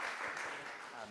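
An audience claps at a coffee grinder conference presentation, a brief dense burst of many hands applauding throughout.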